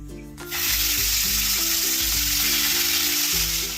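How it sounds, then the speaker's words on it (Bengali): Prawns coated in turmeric and spice paste fry lightly in hot oil in a wok. After a brief quiet start, a loud, steady, close sizzle fills the rest of the clip over a low tonal hum. "এবার ভাজবো, হালকা ভাজতে হবে মাছটা।"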